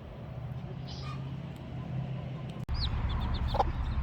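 Garden chickens make soft, scattered clucks and short calls at close range over a low background hum, with a brief knock partway through.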